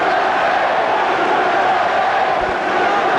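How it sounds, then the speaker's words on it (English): A boxing arena crowd at the 1987 Pan American Games in Indianapolis roars steadily and loudly throughout, a dense, continuous wall of cheering with no clear breaks. "The crowd coming alive now."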